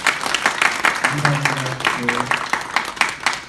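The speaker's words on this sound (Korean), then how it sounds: "우리 전체 이분들을 위해서 박수 한번 크게 해주시죠" Audience applause at an indoor meeting of a CBMC chapter, dense steady clapping from a crowd throughout, with a voice speaking briefly over it.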